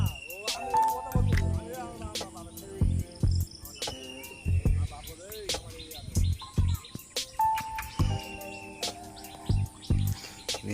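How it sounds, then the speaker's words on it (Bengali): Pigeons, adult birds and squabs, in a loft make soft cooing, chirps and wing flutters, with sharp clicks and knocks scattered between, close by and alone. "এখানে কিছু পায়রা, সিঙ্গেল পায়রা আছে, বাচ্চা আছে, দাঁড়িয়ে আছে।"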